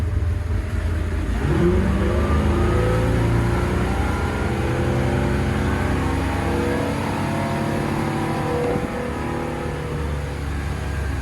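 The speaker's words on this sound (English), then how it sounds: "I'm going to put the boat on plane, show you how quickly it gets up on plane" Cobalt 24SD boat with a MerCruiser 377 MAG 320 hp Bravo III engine powering up onto plane, a loud, close, rising engine roar that climbs steadily in pitch and then holds, with water and wind noise underneath.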